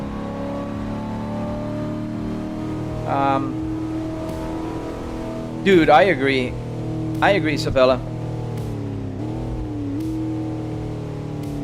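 A car engine in a driving simulator game hums steadily throughout, with brief rising revs and gear-change surges in the middle, while someone talks over it.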